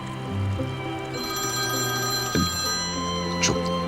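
A telephone rings nearby with a steady electronic tone that holds across the clip, while a couple of brief knocks or bumps break in.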